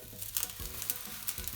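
Eggplants frying in cooking oil in a frying pan over low heat, a soft steady sizzle with faint crackles, fairly quiet throughout.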